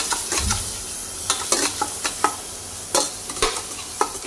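Spices with turmeric sizzle in hot oil for chole, a steady frying hiss broken by irregular scraping and clinking as a spoon stirs the pan, close and fairly loud, with no talking.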